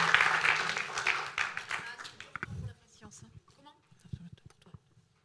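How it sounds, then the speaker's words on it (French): An audience at a forum theatre session applauds a participant, with a burst of clapping for the first couple of seconds that thins into scattered claps while people talk. "On l'applaudit."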